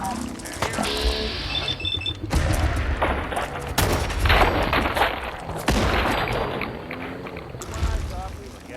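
A grenade explodes in the video game Fallout 4 as a loud, rough blast within dense gunfire and combat noise, with steady background game sound throughout.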